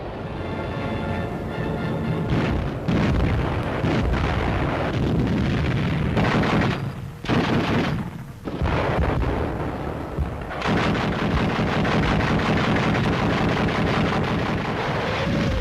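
Soviet bombing raids strike the historic town of Narva in March 1944: loud, continuous rumbling explosions and barrage fire pound without pause, broken only by a brief lull midway before the blasts resume at full force.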